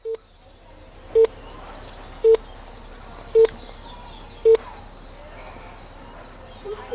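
A telephone keypad dials a call over a phone line, giving five short, evenly spaced DTMF beeps about a second apart, moderately loud over a low steady line hiss, with no talking.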